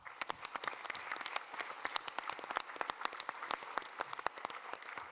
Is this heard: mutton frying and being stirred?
no